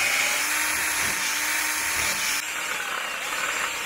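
A cordless drill drills out a rubber bushing in the A-arm of a Corvette C3 with a steady, loud, high whine that runs without a break and drops slightly in pitch partway through.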